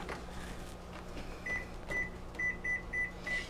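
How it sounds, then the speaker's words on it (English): A kitchen timer being set for rice, several short sharp electronic beeps in an irregular series over a quiet humming kitchen background, close and clear. "I guess we need to set the timer for the rice, 20 minutes."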